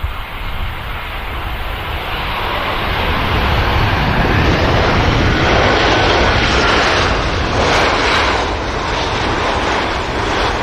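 A Qatar airliner floats in to land at Manchester Airport in warm, heat-rising conditions, its engine roar swelling to a sustained loud rush in the middle before easing slightly, with no voices.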